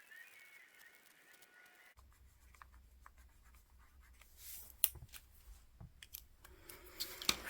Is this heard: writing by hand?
yes